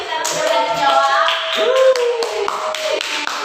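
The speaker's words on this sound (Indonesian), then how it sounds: "Kasih tepuk tangan buat Is karena sudah berani jawab." Classroom students clap for a classmate, scattered claps and taps mixed with tonal voices and chatter, fairly loud and close.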